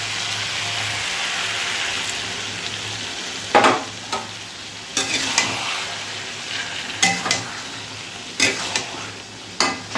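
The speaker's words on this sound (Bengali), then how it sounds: "এবারে পোস্ত বাটাটা দিয়ে দিচ্ছি।" Ridge gourd cooked with poppy seed paste sizzles steadily in a pan, with a spatula scraping and stirring through it in irregular strokes close by; no one speaks.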